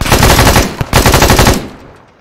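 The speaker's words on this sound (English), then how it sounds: "Yeah, I'd love to find a place to set up with this LMG." A loud, close burst of sustained LMG fire rattles in Arma 3, a rapid stream of shots with a brief gap near the middle before the firing resumes and tails off.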